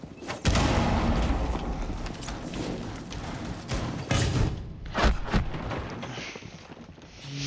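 Rapid gunfire and heavy thuds from Rainbow Six Siege, loud and dense across the whole stretch, with booming impacts and a brief lull near the end.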